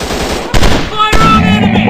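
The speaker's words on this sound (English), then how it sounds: "I'm shooting these fools up! Take that!" Rapid automatic machine gun fire from an FPS commando shooting video game, loud and continuous, with sharp bursts layered over dense battle noise.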